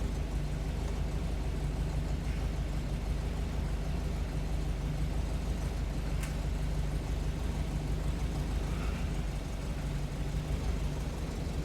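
A 1971 VW Type 3 Square Back on the move, its engine giving a steady low drone with road rumble from inside the cabin, heard alone without talk.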